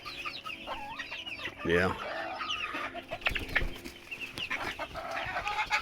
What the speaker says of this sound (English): The Bantam version of Rhode Island Red. One of the most famous American chickens in the world.